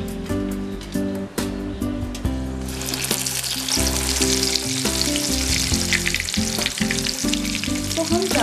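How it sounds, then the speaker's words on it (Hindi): Soya chaap sticks deep-fry in hot oil in a kadai. A loud, dense bubbling sizzle rises partway through as they go in, with background music playing throughout. "अब इसमें हम स्टिक्स को एक एक करके डीप फ्राई कर लेंगे"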